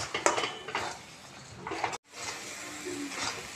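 A spoon scrapes and clinks against a pan while a ground paste is worked into cooking spices for potol chingri, in short bursts of metallic stirring, broken by a brief silence midway.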